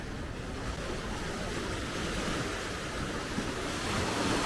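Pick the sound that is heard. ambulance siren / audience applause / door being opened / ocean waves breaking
ocean waves breaking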